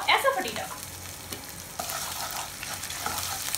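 Asafoetida frying in hot oil alongside grated ginger, a steady sizzle with light stirring scrapes after a brief clink at the start.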